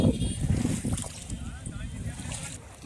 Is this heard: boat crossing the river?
yes